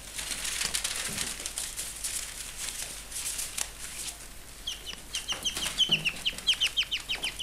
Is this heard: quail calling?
yes